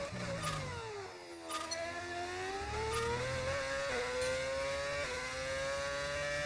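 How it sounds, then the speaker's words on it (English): V8 race car engine in an F1 video game, revving high and close with a sharp, whining tone that dips briefly around gear changes and climbs again, several quick shifts in succession. "What engine sound is this? This is the V8s."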